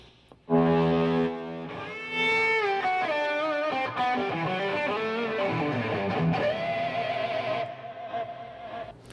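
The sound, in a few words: electric guitar lead tone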